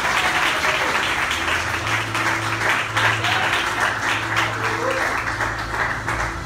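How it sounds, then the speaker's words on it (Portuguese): A church congregation gives loud, continuous applause for the Lord, thick clapping that fills the room, with music or voices humming faintly beneath. "Dê uma salva de palmas para o Senhor."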